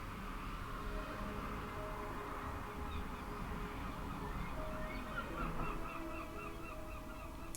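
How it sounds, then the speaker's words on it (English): Gulls calling outside during seagull season, a faint, continuous chorus of honking cries heard behind a steady background of game audio. "If you hear the seagulls outside, I do apologize."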